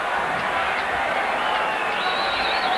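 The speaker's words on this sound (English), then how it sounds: "The crowd hooting and hollering" A large rugby league crowd at an Australia versus New Zealand test match roars and hollers, a dense, steady wash of distant voices and whistles with no pause.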